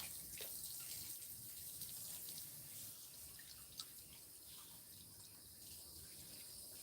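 Water from a leaking irrigation line flows and drips in a steady, faint outdoor hiss, with one brief sharp tick partway through and no talking.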